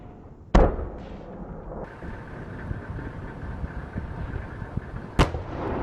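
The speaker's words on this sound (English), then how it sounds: "Then he moves closer and shoots the building at point-blank range." An Abrams tank in the Kursk region fires on a building at close range. Two sharp, loud booms, one near the start and one near the end, sit over a rumbling engine-like background.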